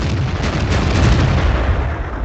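A tank cannon shot from the JT88 in World of Tanks: a loud, deep booming blast with a rumbling tail filling the moment, heard close with no talk.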